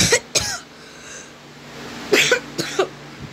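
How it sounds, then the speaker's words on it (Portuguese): Several sharp coughs from a person, a pair near the start and another burst of three or four later, close and loud over a quiet background. "Tô tossindo, gente."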